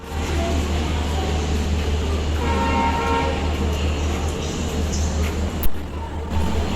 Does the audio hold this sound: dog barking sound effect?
no